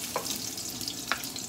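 Garlic fries in a hot pan, giving a short steady sizzle with a couple of faint clicks and no voices.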